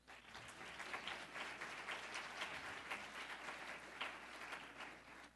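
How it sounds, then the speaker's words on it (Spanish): Steady applause from an audience at a talk on social networks, dense and continuous for several seconds without pause, heard from within the room at moderate level. "Así que viene ese aplauso"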